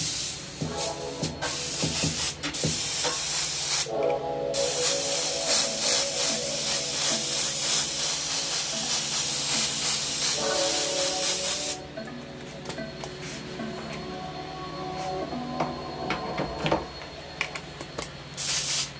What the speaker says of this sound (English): I need to put some gray down first. I can dual wield this airbrush real quick.